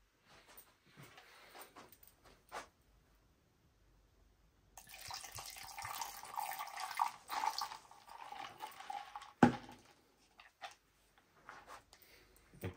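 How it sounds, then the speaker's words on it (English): Wine is poured into a glass in a quiet room, a soft liquid trickle lasting several seconds after a near-silent pause, with a sharp clink partway through and scattered small knocks before and after. "Let me pour out real quick."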